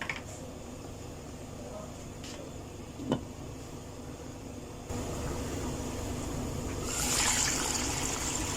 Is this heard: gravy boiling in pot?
yes